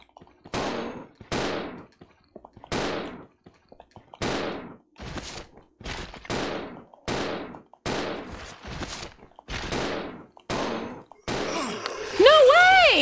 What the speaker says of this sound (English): I'm gonna shoot these guys